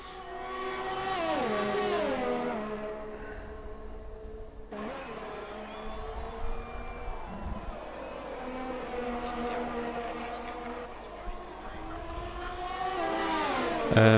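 An Alfa Romeo Formula 1 car in a racing video game, its engine note rising and falling through the gears, with a sustained harmonic whine and shifts. Continuous and fairly loud throughout, with a brief dip midway.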